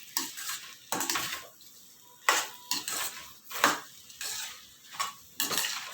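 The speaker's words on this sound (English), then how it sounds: "so keep stirring it" A utensil scrapes and clinks against a pan while thickening baby corn manchurian gravy is stirred, with about eight distinct strokes in an uneven rhythm, close up. No one speaks.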